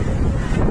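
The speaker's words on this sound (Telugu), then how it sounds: "చూడండి ఫ్రెండ్స్ ఎంత గాలి" Strong wind at Bapatla beach, buffeting the microphone in a heavy, low rumbling gust with surf roar underneath.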